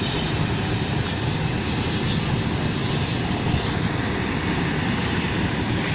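A train rolls past close to a railway crossing beside a farmhouse, its loud, steady roar of wheels and rail noise filling the whole stretch without a break.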